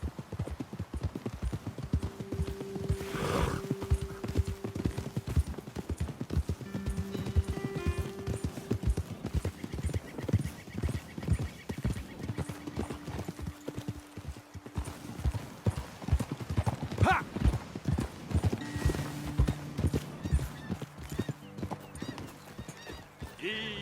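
Horse hooves clip-clopping steadily at a walk along a trail in Red Dead Redemption 2, several horses moving together, close and continuous, with a neigh or whinny and occasional game speech over it.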